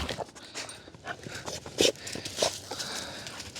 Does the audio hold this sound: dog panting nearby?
yes